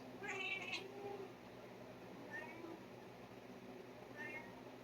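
A house cat meows softly indoors, one longer meow near the start followed by two brief, quieter mews, with faint room noise between.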